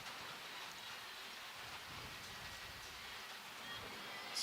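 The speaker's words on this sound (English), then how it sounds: "it started to rain on us here a little bit" Steady rain falls on an outdoor softball game, a dense, even hiss of drops with no talk and no break across the whole stretch.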